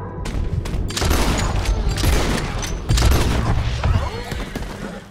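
Heavy gunfire erupts in Red Dead Redemption 2 in a dense fusillade of booming shots and thuds, several overlapping volleys loud and close with brief gaps between bursts.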